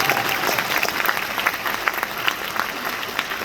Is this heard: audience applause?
yes